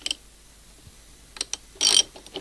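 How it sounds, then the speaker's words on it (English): Small plastic and metal clicks and rattles from handling a spark plug cap on a Makita leaf blower, a few sparse ticks and a short scraping burst, close and fairly quiet. "Bit of fiddling around, trying to get that spark plug cap in a position where it's not blocking the socket."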